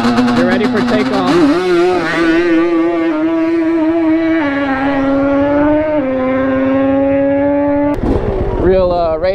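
Yamaha Banshee two-stroke ATVs drag race, their engines wailing loudly and rising in pitch up close, then a sharp burst as the revs shift near the end, with voices mixed in.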